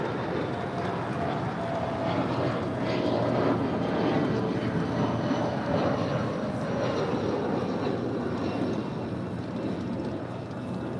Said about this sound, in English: That is a Bombardier Challenger 604. Departing to Bellingham.